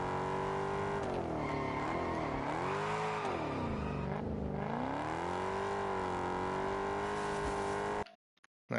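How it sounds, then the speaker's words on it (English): A car engine in Test Drive Unlimited Solar Crown revs loudly and close, its pitch climbing and falling through shifts and acceleration with some tire squeal. It runs steadily for about eight seconds, then stops abruptly. "I like the sound of the engine on that."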